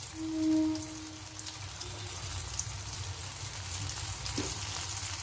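Chili powder sizzling faintly in hot oil for vatha kozhambu, a soft steady crackle and hiss with a brief tone near the start and no talk.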